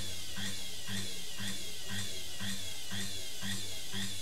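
A homemade fuel-free generator built from a washing machine motor runs with a quiet, regular pulsing whir, repeating about twice a second in an even rhythm, close by with no talk.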